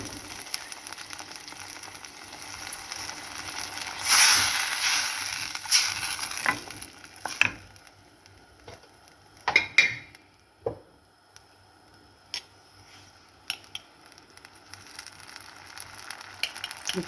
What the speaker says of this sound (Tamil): இப்போ நான் வந்து கரைச்சி வச்சுருக்கிற புளியை வடிகட்டி ஊற்றுறேன். இது ஒரு கொதி வரட்டும்